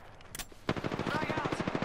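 Automatic gunfire in the battle royale shooter Apex Legends: a rapid, steady burst of loud close shots rattling on after a brief crack, with a voice faintly mixed beneath.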